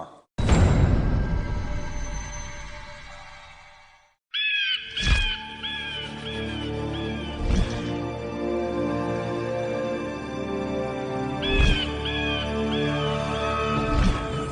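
A parrot kept as a spy in a royal treasury gives a few sharp, high squawks, first around the middle and again near the end, over a heavy, booming background.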